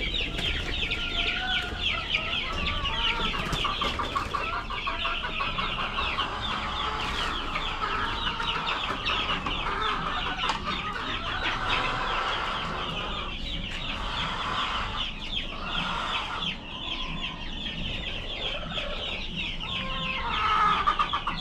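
Chickens and roosters kept for sale cluck steadily and close, a dense flock chattering throughout with occasional louder squawks, no talk over them.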